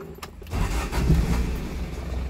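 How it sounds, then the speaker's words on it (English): A Toyota 3K OHV engine in a KE20 Corolla idles with a steady low rumble, rising slightly after a short quiet start, with a rough, truck-like drone throughout. "this engine is for OHV, so the sound is just like a pickup truck"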